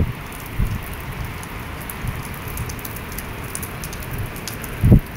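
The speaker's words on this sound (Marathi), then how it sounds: "किती आवाज येतो पावसाचा बघा." Heavy rain falls in Mumbai, heard from a balcony as a steady, dense hiss, with a couple of louder close thumps of drops striking a nearby surface.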